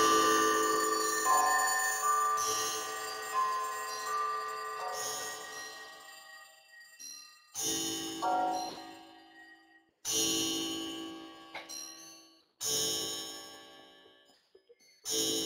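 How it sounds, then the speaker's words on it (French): A bell rings out in several separate strikes, each bright metallic tone ringing on and fading before the next, with short silent gaps between the later strokes. "la cloche a sonné"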